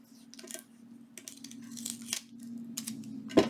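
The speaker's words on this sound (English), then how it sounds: "I'm just taking that tape off." Tape peeling off the corners of a napkin junk journal page: several close, crinkly tearing strips come in short bursts over a low steady hum, with no talking.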